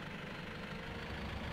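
A tractor engine idles in Farming Simulator 15 with a steady low rumbling drone. It is quiet and unchanging for a moment, with no talk.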